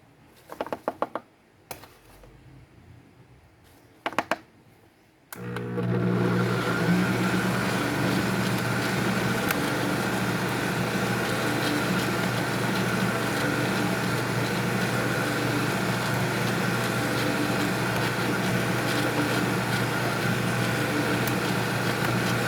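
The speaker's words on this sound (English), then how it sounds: "This is what I like about this mixer because the speed number 1 is really speed number 1. It's really slow." Stand mixer kneading cookie dough for ube and matcha cookies on its slowest speed, starting after a few soft handling knocks and then running as a steady, close, continuous whir with a low mechanical hum and no talking.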